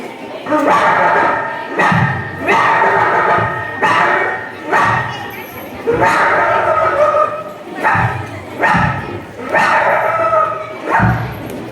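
A human voice imitates an angry dog, with repeated loud barks and yips coming in rhythmic bursts along with growly vocal sounds.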